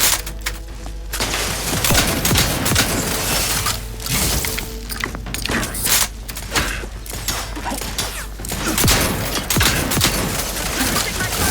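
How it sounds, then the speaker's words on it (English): Rapid gunfire from The Outer Worlds 2 crackles in dense, repeated bursts with mechanical clatter, loud and continuous, with a voice speaking over it. "Shooting fast, changing magazines,"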